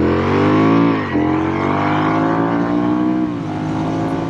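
A Honda Rebel 1100 DCT motorcycle with an automatic dual-clutch gearbox pulls hard, its engine note climbing then dropping briefly as it shifts itself up, rising again and easing at a second shift, loud and close.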